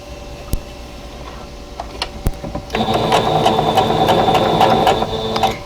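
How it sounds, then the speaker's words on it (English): Sewing machine stitching a quarter-inch patchwork seam on quilt block units, starting with light ticks and handling, then a steady close, loud motor whir with rapid needle chatter running continuously to the end. "then sew a 1/4 inch seam"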